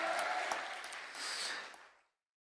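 Applause from a congregation at a Korean church revival service, a couple of seconds of close, dense clapping with a few sharper claps that quickly fades out to silence.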